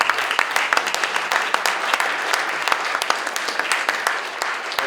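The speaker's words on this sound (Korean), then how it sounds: "이제 다시 한번 박수 축하해 박수." A church congregation claps together in dense, sustained applause at a thanksgiving service for a newly installed denomination president, with no talking over it.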